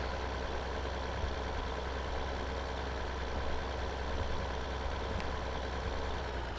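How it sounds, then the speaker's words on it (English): A tractor engine in Farming Simulator 2013 drones steadily at low pitch with a constant rumbling hum, moderately loud and unchanging throughout. No one speaks over it. "let me get this tractor off the road here so I can get my sunflowers"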